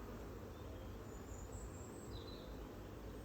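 Honey bees hum during a hive inspection, a faint, continuous buzzing drone with no pauses and no voices.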